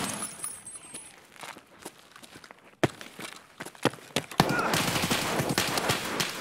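Gunfire exchange in the video game Escape from Tarkov, with scattered sharp single shots, then a dense burst of rapid fire near the end, moderately loud against a quieter background.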